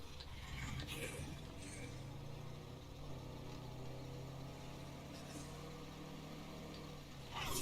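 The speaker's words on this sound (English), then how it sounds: "Definitely have a whistle in the engine." A vehicle engine in the video game State of Decay 2 runs steadily with a faint whistle in it, a continuous mid-level hum and drone that holds throughout at moderate distance.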